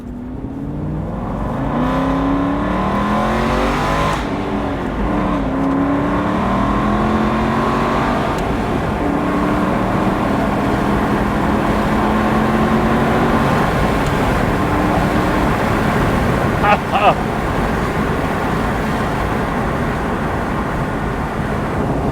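An Aston Martin Vantage in sport mode revs hard and climbs in pitch, roaring loudly and steadily from inside the car, with a brief gear-shift blip near the end.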